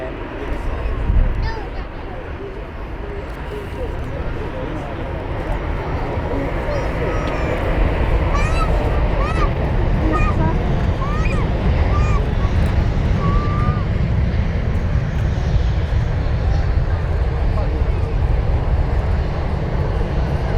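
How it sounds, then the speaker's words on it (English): An Emirates airliner takes off from runway 05L at Manchester Airport, its engine roar building to a loud sustained rumble, with someone talking over it early on and birds calling in the background. "And the Emirates has just been doing takeoff clearance there, so here we go."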